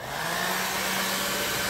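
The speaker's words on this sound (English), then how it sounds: "then we'll hit it with the hair dryer" A hair dryer on low heat blows in a steady, even whoosh with a faint motor whine, close by and uninterrupted.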